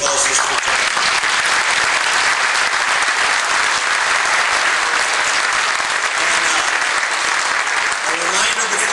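Audience applause at a Tea Party gubernatorial debate, a loud sustained wash of clapping from a large crowd filling the room throughout.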